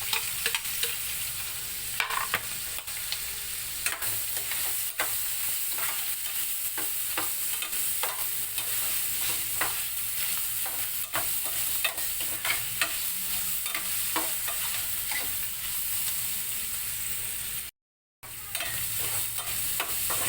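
Onion sautéing in a pan for ginisang upo, a steady sizzle with frequent scraping stirs and clinks of a utensil, continuous and close, with a brief dropout near the end.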